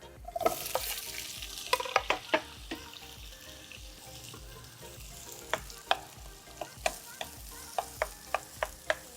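Onions sweat in a pan for Sri Lankan chicken curry with a soft, steady sizzle, broken by frequent sharp clinks and scrapes of a utensil stirring against the pan.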